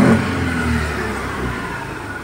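A second-hand Hero Destini 125 scooter engine revs up close. A brief louder rise at the start settles into a steady, even mid-pitched engine hum.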